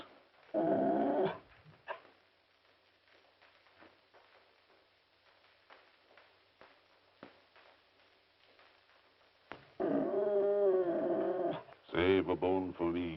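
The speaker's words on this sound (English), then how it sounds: "There must be a dog under the table." A dog under a table gives low growls and whimpering noises in an old comedy film scene, heard in short bursts between spoken lines, with quiet gaps between them.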